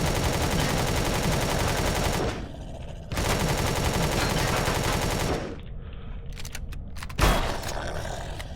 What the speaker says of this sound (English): I think somebody was shooting me from over there as well.